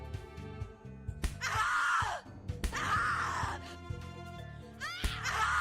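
Anguished screaming and groaning from The Cat Lady, several drawn-out cries separated by sharp hits and gasps, up close over a low, murky background.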